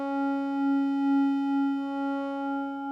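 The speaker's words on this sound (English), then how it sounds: "And then square wave going to sine wave." A MorphWiz synth holds a steady pitched tone as the waveform morphs from a buzzy square wave toward a smoother sine wave. The sustained note has a gentle pulsing swell in loudness and plays alone with no voice.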